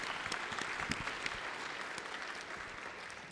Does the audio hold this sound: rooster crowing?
no